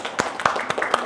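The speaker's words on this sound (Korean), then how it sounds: "이영남 선생님한테 미리 감사를 말해서 박수를 좀 보내드립니다." A small audience at an outdoor humanities walking-tour lecture claps sparsely, with about a half-dozen distinct claps spread unevenly across a brief moment rather than full applause.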